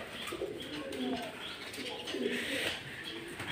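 Pigeons sitting on eggs in a coop coo softly and close by in a few low, repeated rounds, with quiet background noise.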